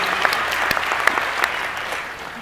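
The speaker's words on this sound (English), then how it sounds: "Round of applause, ladies and gentlemen" Audience at a Dragon Quest cosplay masquerade during a Crunchyroll Expo convention breaks into a steady round of applause, dense clapping throughout that fades slightly toward the end.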